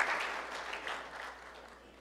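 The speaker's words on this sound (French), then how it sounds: "On va applaudir" Church congregation applauding during a service, a short wash of clapping that starts strong and fades out within about two seconds.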